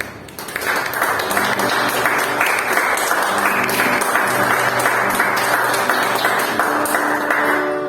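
A church congregation at a family worship service claps steadily and loudly in a sustained, even ovation that carries on without pause and with no voices heard.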